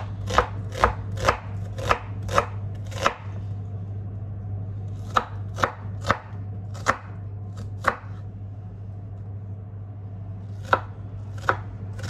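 An onion is chopped on a board in quick runs of sharp knife strikes, several fast cuts, a pause, then more scattered chops over a steady low hum.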